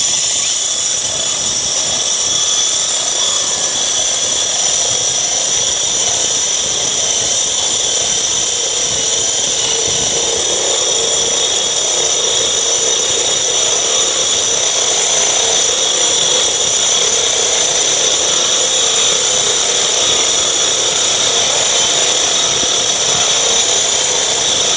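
A Hukan cordless drill fitted with a 60 mm core bit runs a steady, loud, continuous whirring whine throughout as it cuts a hole. No one speaks.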